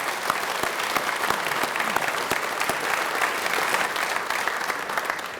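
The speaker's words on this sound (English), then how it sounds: "let's give a round of applause to our leaders" Sustained applause from an audience at a college fitness and recreation center dedication, a steady dense patter of clapping hands lasting several seconds with no voices over it.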